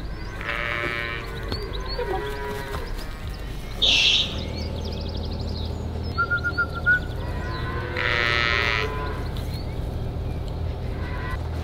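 Cattle low and bellow on a farm where a massive bull meets small fluffy cows, several drawn-out calls spaced apart over a constant low rumble, with sheep bleating mixed in.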